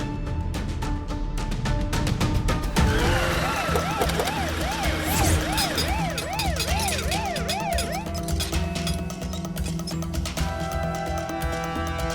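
A wailing ambulance siren rises and falls in repeated sweeps mid-clip amid a dramatic scene with music and background sound, loud and fairly close.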